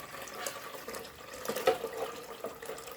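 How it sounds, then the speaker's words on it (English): Filtered water pours from a large pitcher into a Homech humidifier tank, a faint, uneven splashing trickle with small surges. "let's put some water in it. I got a big pitcher."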